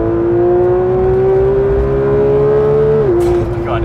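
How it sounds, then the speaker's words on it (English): A Porsche 911 GT Cup car engine held at high revs on a wet track, a loud, close, steady whine that climbs slowly before briefly dipping in pitch near the end as the throttle eases. "let's let this engine sing because now I'm actually gonna have some traction"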